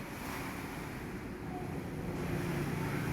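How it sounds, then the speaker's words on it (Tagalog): Strong typhoon wind roars steadily and loud over a Philippine neighborhood of tied-down roofs, a broad continuous rushing with gusty buffeting against the microphone and no voices. "Lakas po ang hangin."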